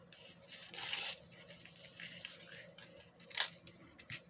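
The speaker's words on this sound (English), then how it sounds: "So I'm going to cut this out" Scissors cutting out a flower-print paper piece for an Iris junk journal mini journal, with soft close snips and a couple of brighter crisp cuts, faint and unhurried.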